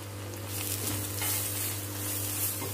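Ginger garlic paste frying with onions in a pan as it is stirred for white biryani, a dense close sizzle with soft scraping from the spoon, brief and steady.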